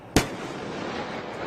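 Fireworks go off with one sharp, loud bang followed by a lingering rumbling echo and crackle that fades slowly.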